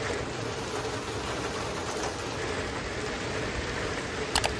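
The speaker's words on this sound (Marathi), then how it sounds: "पाऊस असा चालू आहे ना सकाळपासून" Steady rain falls throughout, a constant broadband hiss with no voices, ending with a couple of brief sharper ticks near the close.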